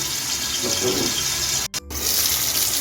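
Pieces of aar fish fry in hot oil in a non-stick pan over medium flame, a steady, close, rushing sizzle that breaks off briefly and then resumes.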